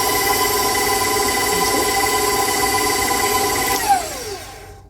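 A stand mixer kneads elastic bread dough for French bread with a steady, loud motor whine, then spins down and stops near the end.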